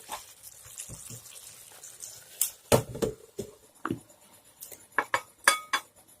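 A spoon clinks and scrapes against a pan while fish masala is stirred, giving scattered metallic knocks and clatters at irregular moments, close and fairly quiet, with no speech.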